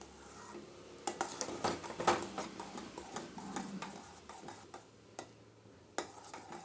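Spoon scraping and stirring a sweet coconut mixture with cardamom powder in a pan for a traditional Tamil sweet, giving irregular clinks and soft scrapes at close range with no talking.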